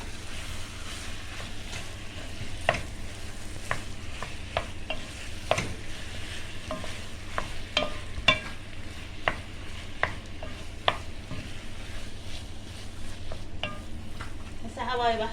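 Carrots being stirred as they fry in a pan for carrot halwa, a soft steady sizzle with repeated light scrapes and knocks of the spoon against the pan, close and continuous.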